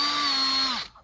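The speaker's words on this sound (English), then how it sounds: "I'm gonna drill out that little rivet" A small power drill boring out the rivet on the base of a die-cast Hot Wheels toy car, a loud steady high whine for under a second before winding down and stopping, close up with no talking.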